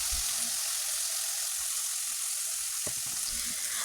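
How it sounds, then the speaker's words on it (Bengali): Chopped green chillies and ginger paste fry in oil for a potato and kachki fish curry, giving a continuous loud close sizzle with a couple of brief clinks from a stirring utensil. "এখন আমি এর মধ্যে দিয়ে দিব কাঁচামরিচ কুচি দিয়ে ভালোভাবে ভেজে নিতে হবে"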